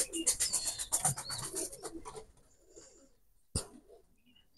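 Teddy pigeons coo and flutter close by for about two seconds, then things fall mostly quiet apart from one sharp knock.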